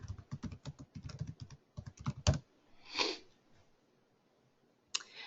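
Rapid close clatter of keys on a computer keyboard, a dense burst of keystrokes for about two seconds, then a soft rustle and one final isolated click, with no talk.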